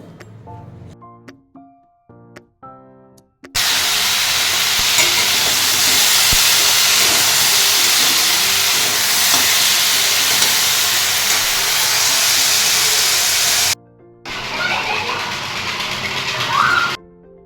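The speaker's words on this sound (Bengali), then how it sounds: "এবারে চাল ডাল আর সব মশলাগুলো দিয়ে খুব সুন্দর করে দেখো আমি কষিয়ে নেব" Rice, lentils and spices sautéing in a pot for khichuri give a loud, steady, close sizzling hiss that runs for about ten seconds after a few short tonal sounds, then pauses briefly before the sizzle resumes.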